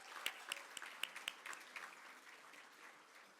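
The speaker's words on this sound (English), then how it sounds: "So that can have a few claps." Sparse, faint clapping from a small audience at a business awards ceremony, a handful of distinct claps at first, thinning into scattered soft applause.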